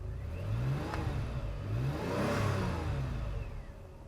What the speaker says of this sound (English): Let me give it a little rev.